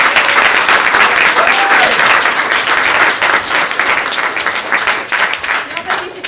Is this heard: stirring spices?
no